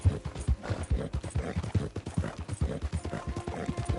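A horse's hooves clip-clop in a quick, steady rhythm of close, distinct knocks that run through the whole stretch without pause.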